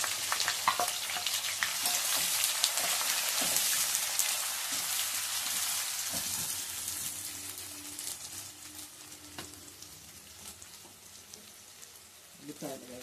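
Thinly sliced onions and masala sizzle and fry steadily in hot oil for a mutton curry, a dense crackling hiss close up with occasional stirring scrapes, easing slightly toward the end.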